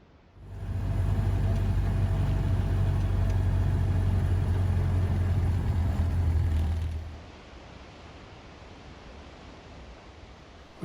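A Ford Model A car drives across a Model A era hydroelectric dam, a steady low engine drone and road rumble heard up close for several seconds before it fades to quieter background noise.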